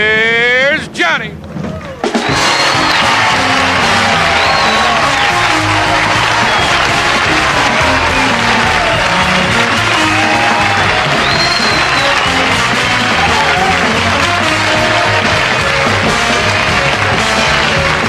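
Studio audience on a late-night talk show bursts into loud, sustained applause and cheering after a short band intro, a thick continuous roar that holds steady to the end.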